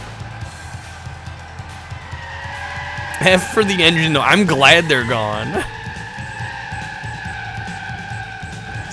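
Tires skid and squeal in a PS1 racing video game, a wavering screech lasting a couple of seconds over steady game music while a person talks.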